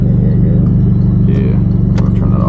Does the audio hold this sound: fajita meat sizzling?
no